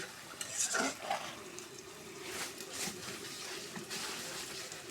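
Onion and salt sautéing in a pan, with frequent scraping and stirring of a utensil against the metal over a steady sizzle, close and moderately loud.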